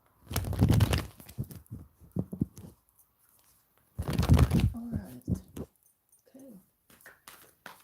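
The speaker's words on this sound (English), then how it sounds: "Let's just shuffle the deck very well." Tarot deck being shuffled, two separate bursts of riffling card clatter close to the microphone, each followed by softer handling sounds and quiet gaps.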